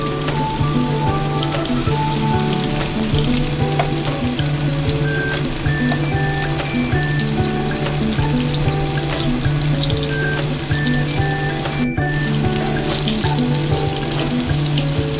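Coated tofu fries in a pan, with a loud, steady sizzle and crackling spatter that continues throughout, close up and with no talking.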